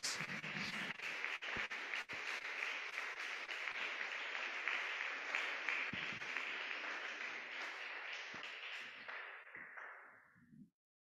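A church congregation applauding during a sermon on family, a dense sustained wash of clapping with sharp individual claps standing out, moderately distant, fading to silence at the end.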